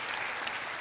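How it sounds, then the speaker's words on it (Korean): Applause from a church congregation at a Baptist gathering, a dense, steady wash of many hands clapping together, with no voices above it. "뜨거운 박수로 한번 팽 돌립시다"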